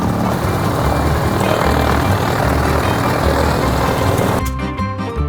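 An aircraft engine running behind the scenes at the Wings Over Houston airshow, a loud, steady roaring drone held close and alone, shifting to a harsher tonal whine with clear harmonics in the final second.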